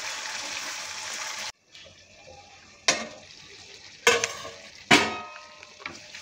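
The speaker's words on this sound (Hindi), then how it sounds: "तो फिर इनू ढक के पकावे।" Sweet and sour pumpkin sabzi cooking in a pan, a soft sizzle broken by a sudden pause and then several sharp clattering bursts as the lid and pan are handled, close and moderately quiet.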